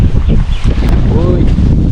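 Loud, steady wind buffets the microphone near a hilltop fort at Kavaledurga during the monsoon while a tent is being pitched, a constant roaring rumble with faint flapping.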